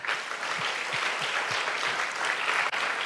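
Enthusiastic applause fills a church service, a loud continuous crackle of many clapping hands up close, with a low thumping beat tapping steadily beneath it and a brief dip near the end.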